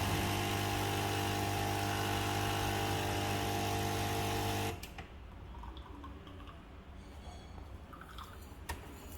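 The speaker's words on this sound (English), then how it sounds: "So when you select flat white, it will actually make the espresso first." A Nespresso Creatista Plus brewing espresso: a loud, steady humming pump drone runs for about four and a half seconds, then cuts off, leaving quiet dripping and faint clicks.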